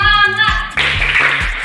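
A classroom of children does a rhythmic spirit clap together, several quick sharp claps in a patterned beat, close and fairly loud with a little chanting.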